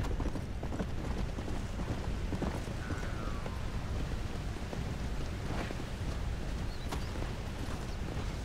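Horse hooves clip-clop in the Red Dead Redemption video game, a steady trotting rhythm set against a dense wash of wind-like ambient noise, moderately loud with no clear talk.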